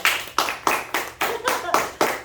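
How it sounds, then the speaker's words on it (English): Seven or eight light, evenly spaced hand claps in a soft golf-clap rhythm, close and fairly quiet, from a small group in a classroom lesson setting. "let's give a little golf clap for Mr."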